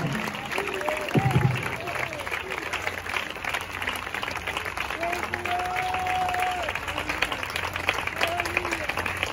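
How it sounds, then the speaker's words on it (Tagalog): A church congregation applauds in praise during a worship service, a steady continuous wash of clapping that runs throughout, with a voice speaking over it. "Patuloy po tayo pumalakpak sa ating mahal at Panginoon."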